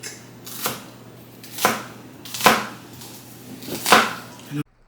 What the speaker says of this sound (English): we're just chopping up the vegetables that is going to go in the cabbage